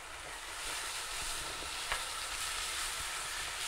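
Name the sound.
stirring ginger paste frying in pan for mutton keema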